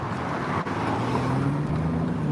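A car on a Los Angeles street, with a steady close traffic rumble lasting throughout and no voices.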